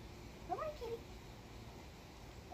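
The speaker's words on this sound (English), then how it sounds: "No, no, that's just Mama's kitty. He's coming out here." A black cat at a campsite gives a couple of short, faint meows near the start and again at the very end, over quiet outdoor background.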